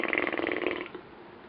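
A child's drawn-out, gurgly burp lasting under a second, close and fairly loud, trailing off into quiet room noise.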